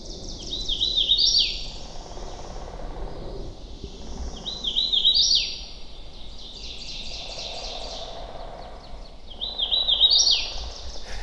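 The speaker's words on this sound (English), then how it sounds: "You've got the hooded warbler, which is this bright yellow bird with like a black mask across its face." A bright, high hooded warbler song repeats three times at steady intervals, each phrase rising to an emphatic ending, clear against a quiet woodland background on the Appalachian Trail.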